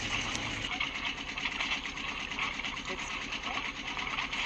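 A Universal diesel engine idles aboard a Catalina 30 sailboat with a fast, even, clattering chug at moderate loudness, while a person speaks nearby.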